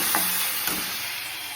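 Onion sizzles steadily in a pan as it fries for a dhaba-style rajma curry, with a constant close hiss and a couple of soft stirring scrapes.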